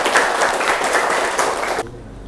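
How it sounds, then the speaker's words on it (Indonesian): Schoolchildren in a classroom burst into loud, close clapping that runs for nearly two seconds, then cuts off abruptly to a quiet room hum. "Tepuk tangan buat kita semua dulu."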